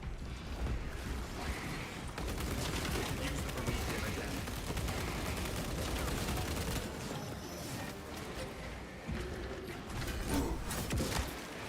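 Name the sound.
gunfire shooting an enemy in video game Space Marine 2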